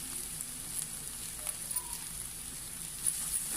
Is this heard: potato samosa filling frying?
yes